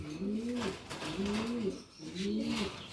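Pigeons in a breeding loft cooing in three repeated low, rolling phrases, close and clear with no talking over them.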